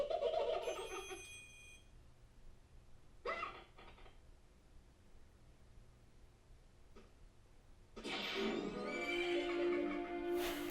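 A horse in an N64 game set in Hyrule whinnies loudly at the start, followed by a short clatter, a quiet stretch, then another long, bright neigh near the end.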